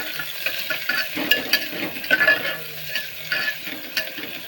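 Chopped onion fries in a pan for khichdi, a soft continuous sizzle broken by scraping stirs of a spoon against the pan, fairly quiet and close with no talking.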